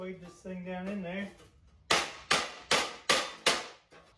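Five sharp, evenly spaced hammer blows ring out as a part is driven into an antique shovel, close and loud, following a brief voice at the start.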